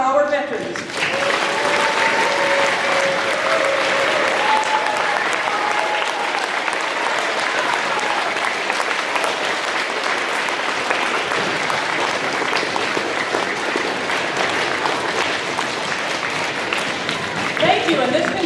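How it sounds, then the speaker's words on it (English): A large audience at a Veterans Day program gives veterans a long, sustained round of applause, dense clapping filling the whole stretch, with a voice briefly audible at the start. "Let's have a big round of applause for our veterans."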